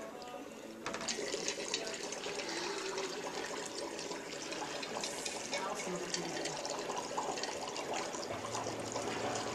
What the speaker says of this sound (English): let's put a little more water in there